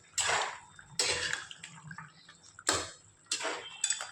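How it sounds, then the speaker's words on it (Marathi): Several bursts of wet scraping and sloshing as a heavy crab masala with onions is stirred in a pot, about five separate strokes with quiet pauses between them. "हलवून घेऊया खेकडे."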